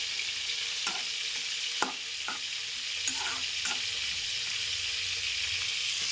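Brinjal pieces fry in hot oil for a brinjal curry, a continuous hissing sizzle with occasional sharp clicks and scrapes of a spoon stirring the pan, and no voices.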